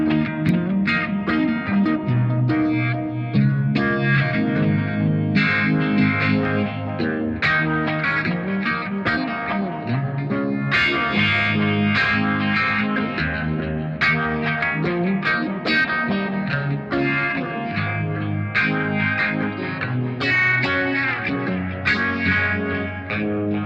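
Electric guitar played through the phaser modulation of a BOSS MD-500 pedal, a loud, continuous riff with a swirling, sweeping tone and steady chords and notes throughout, no talking.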